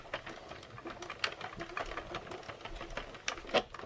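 A Mushroom House 32-pin knitting machine running with a steady, close clatter of rapid mechanical ticks and clicks, even in rhythm with occasional louder clacks.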